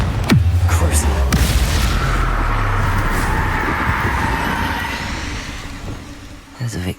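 Confringo blasting spell going off in Hogwarts Legacy, a loud burst at the start that rolls into a sustained rumbling roar, fading slightly toward the end with a short thump.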